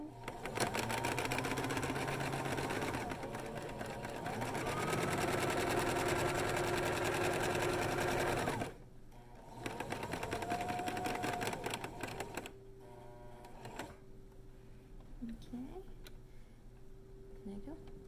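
A sewing machine stitches fabric for a face mask, running in a fast, steady mechanical rattle close by, pausing briefly and then starting again more quietly before stopping, with some talking over the later part.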